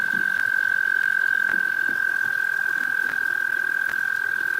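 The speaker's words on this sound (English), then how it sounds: "How loud can a frog be?" A frog croaks steadily in a garden, a loud high trilling call held continuously with faint clicks and background noise beneath it.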